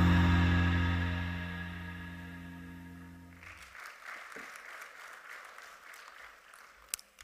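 After a monetary policy statement, a sustained musical tone fades out and an audience starts clapping, the applause quieter and scattered across the second half.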